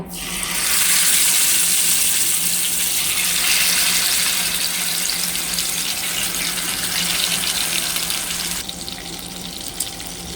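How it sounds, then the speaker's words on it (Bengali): Koi fish dropped into hot oil in a wok set off a sudden loud, hissing sizzle that holds steady and then thins out toward the end, with no talking. "তেল গরম হয়েছে, এখন আমি মাছটা ছেড়ে ভাজবো।"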